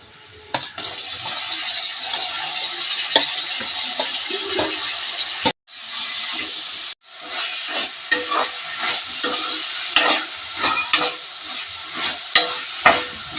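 Chopped ivy gourd fries loudly in hot oil in a village-style kitchen, a dense steady sizzle broken by a brief drop near the middle, followed by repeated scraping stirs and clacks of a spatula against the pan.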